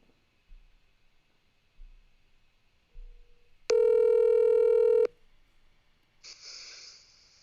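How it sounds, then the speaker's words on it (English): A telephone call connects on a sports talk show: a few low thumps and a brief faint tone, then a loud steady dial tone lasting over a second, followed by a softer hissing line tone. "we'll get Danny on the horn for you"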